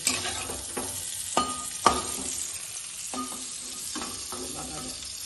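Cauliflower florets fry in hot oil with a dense, steady sizzle, broken by several sharp clatters of a spatula stirring in the pan.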